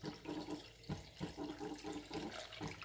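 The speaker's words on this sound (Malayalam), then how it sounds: "ഇനി നമുക്ക് പാല് 4 കപ്പ് എടുത്ത് വെച്ചിരുന്ന് കുറച്ച് നമ്മൾ ആദ്യം എടുത്തിട്ടുണ്ട്, ബാക്കിയുള്ളത് നമുക്കിതിലേക്ക് ഒഴിച്ചു കൊടുക്കാം." Milk pours into a cooking pot for navara rice payasam, making a quiet, continuous splashing gurgle with small irregular surges and no voices.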